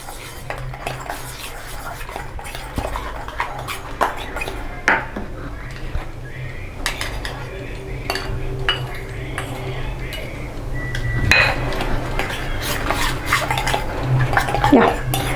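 Oats and malai stirred together in a bowl for a face scrub, with a spoon clinking and scraping against the bowl in irregular bursts over a steady room background, close and fairly loud.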